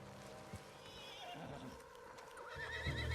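A horse in Red Dead Redemption 2 whinnies in a high, wavering call over a soft background bed, with a few low thuds of movement around it.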